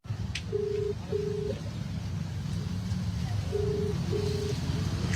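Phone keypad dialing tones chirp faintly, two pairs of short beeps, over constant traffic rumble and a running engine on a city street in Surat, with people talking nearby.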